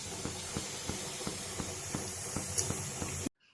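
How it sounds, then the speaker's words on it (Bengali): Steady, loud steam hiss from a pressure cooker of Bihari-style mutton curry on a high gas flame, with faint regular low thumps underneath, cutting off abruptly near the end. "স্টিমটা কিন্তু ধরে গেছে"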